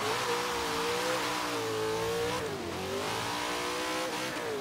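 Supercharged Chevy Nova revving hard and launching down a drag strip in Forza Horizon 3, a loud sustained engine roar with rising and falling pitch as the car shifts through gears, no talking.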